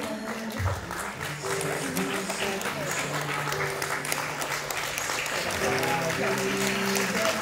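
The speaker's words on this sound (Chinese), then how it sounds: "掌声欢迎。" Sustained applause fills a wedding hall as the bride is welcomed in, a dense, continuous patter of many hands clapping over soft background music, with a host speaking briefly.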